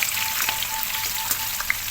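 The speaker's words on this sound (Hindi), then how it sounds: "शिमला मिर्च को हमको ज़्यादा नहीं पकाना है, इसी के साथ में मैं निकाल लेती हूँ बस एक टाइम सौटे करके" Potatoes and capsicum sauté in a hot pan, giving a dense, steady sizzle with a few faint stirring taps, close and continuous.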